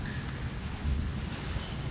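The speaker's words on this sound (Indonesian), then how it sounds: "Kalian lihat, masih hujan ya." Rain falls steadily outdoors, a dense, even hiss with a low rumble underneath, continuous and moderately quiet with no voices.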